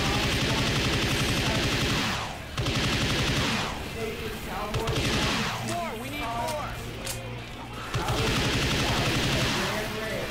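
Fireworks from a My Little Pony mod in Left 4 Dead 2 go off in dense, rapid crackling bursts that sound like gunfire. The bursts fill the whole stretch at steady loudness, with game voices mixed in.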